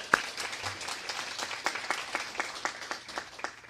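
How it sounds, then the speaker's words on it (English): A modest audience at a governor's grant announcement claps for the students, with individual claps distinct within a lively but fairly sparse round of applause that carries on steadily. "round of applause."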